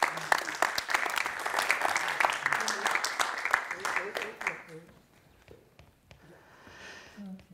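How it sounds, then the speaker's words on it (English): An audience at a literary reading applauds poets Ghayath Almadhoun and Anne Vegter, with steady, fairly loud clapping for several seconds that thins and fades into quieter room sound with a few scattered claps. "Give them a warm applause"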